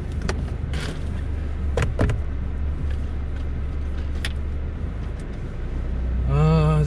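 An off-road vehicle on an outdoor camping trip drives past a small hill, its engine a steady low drone with a few knocks and clatters over the terrain. A voice briefly rises near the end.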